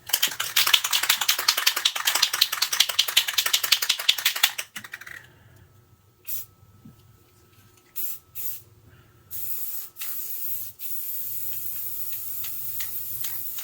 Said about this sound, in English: we'll just give those a quick spray